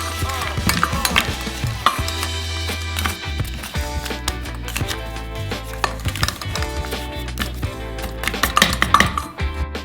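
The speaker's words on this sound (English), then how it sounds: "break it up with a spatula" A spatula breaks up and stirs melting Kinder chocolate in a fountain saucer, with repeated clinking, scraping and knocking against the metal over a faint sizzle. The strokes are irregular and fairly close, with no voices.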